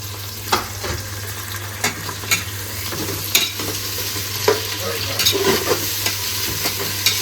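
Onions sizzle steadily in a hot pan for a tomato bath, with a broad constant frying hiss and occasional scraping stir clicks throughout, no voices.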